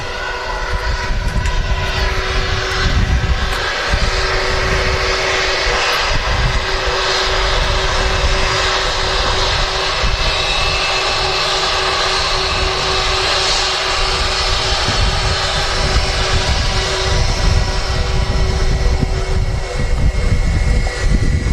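A British Airways A320 airliner arriving on runway 23 right at Manchester Airport and taxiing off, its engines a loud, steady roar that holds throughout.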